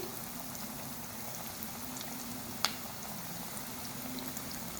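Chicken nuggets sizzle in hot oil over a medium flame, a soft, even, continuous crackle with one brief sharp pop partway through.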